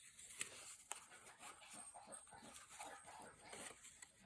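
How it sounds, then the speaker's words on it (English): A dog laps water, a soft wet rhythmic lapping close by with a few sharp clicks, no talking. "that is my dog drinking water"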